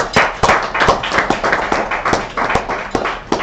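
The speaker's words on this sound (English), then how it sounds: "please give a round of applause for our first Simba" A small audience at a mining event claps for a speaker, close and fairly loud, with sharp individual claps in a loose, uneven rhythm.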